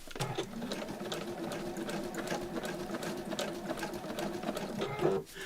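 Sewing machine stitching fabric indoors during a relaxed crafting session, a steady close whirring hum running almost continuously with a brief louder surge near the end.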